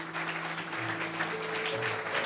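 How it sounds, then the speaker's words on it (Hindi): Faint congregational applause at a praise and worship church service, a soft steady patter of clapping with sustained musical tones held underneath. "जोरदार तालियां जी"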